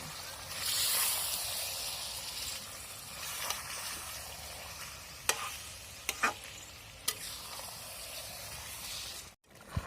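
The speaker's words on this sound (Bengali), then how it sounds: "এবার আমি মাংসটাকে পুরো কষাবো।" Chicken curry meat sautéed in a pan, a low continuous sizzle under repeated spatula scrapes and a few sharp clicks of metal against the pan, fairly quiet throughout.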